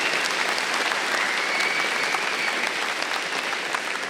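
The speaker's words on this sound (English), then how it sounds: "give them a round of applause" Conference audience applauding steadily, a dense wash of many hands clapping at even loudness throughout, with no voices over it.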